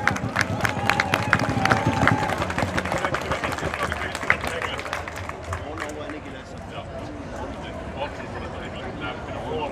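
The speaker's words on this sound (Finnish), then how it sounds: "Antakaa aplodit Joukolle." Outdoor crowd at a political rally applauds and cheers as a speaker is introduced, clapping strongest early then thinning, with voices and background noise mixed in.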